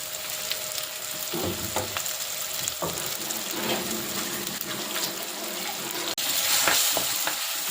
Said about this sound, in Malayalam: നമ്മളിത് ഒന്ന് വഴറ്റിയെടുക്കുക